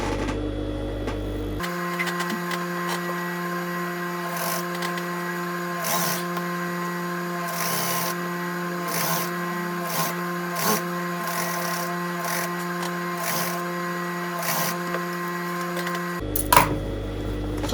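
A sewing machine stitches the lower edge of a bustier tube top, running a steady droning hum close by for most of the stretch, with small clicks and bumps along the way before it stops near the end.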